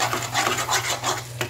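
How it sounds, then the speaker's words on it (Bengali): Spice paste with a quarter teaspoon of nutmeg powder being stirred and fried in a pan, a steady scraping and rubbing that comes and goes in quick strokes. "এবার আবার মশলা দিয়ে দিলাম 1/4 টিস্পুন জায়ফলের গুঁড়ো, তারপরে আমি মশলাটাকে আবার কষিয়ে নেব"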